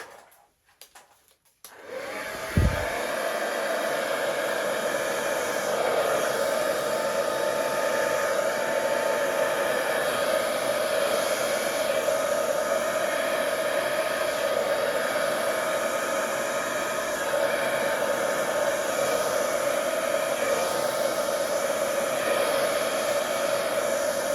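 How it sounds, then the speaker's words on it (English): A hair dryer starts up after a brief click and blows steadily across wet acrylic pour paint with a constant whirring roar for the rest of the clip, loud and close. "I'm going to use my hairdryer just to blow the base out"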